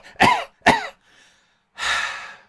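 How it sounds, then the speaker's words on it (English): A person coughs twice in quick harsh bursts, near and loud, then gives a breathy exhale. "I have a cough which nearly kills me, and the noise it makes me betray you."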